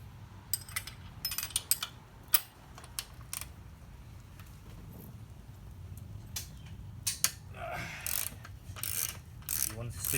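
A 19 mm wrench works the axle nut on the front wheel of a Honda Trail125 (CT125), giving scattered metallic clicks, ratcheting and tool clatter at close range against a quiet background.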